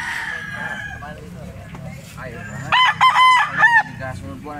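A young gamecock (stag) crows loudly and close by, one long strained call rising out of a quieter farmyard background with faint clucking.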